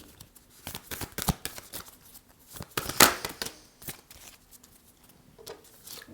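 Oracle cards from the Lightworkers deck being shuffled by hand, a run of crisp papery riffles and slaps with one sharp louder snap near the middle, close and fairly quiet with no talking.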